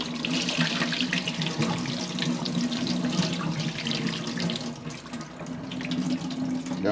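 Stew peas are rinsed under a running kitchen tap at the sink, water splashing steadily and evenly for several seconds with no talking.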